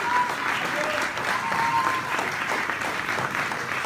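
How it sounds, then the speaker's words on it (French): A seated audience at a short-film screening event breaks into sustained, even applause, a thick continuous patter of many hands with a faint voice or two underneath. "on les applaudit bien fort"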